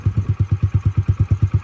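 A Yamaha TTR50 pit bike with a freshly rebuilt top end and an adjusted carburetor idles close by, its small single-cylinder engine thumping out a steady, even string of loud pulses with no talk over it.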